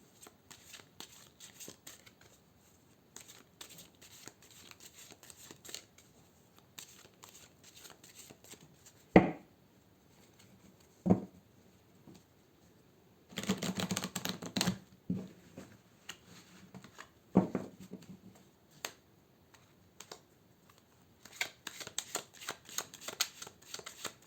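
Oracle cards are shuffled by hand in quiet, intermittent bursts of soft riffling and slapping, with longer runs of shuffling between brief pauses.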